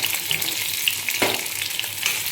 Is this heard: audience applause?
no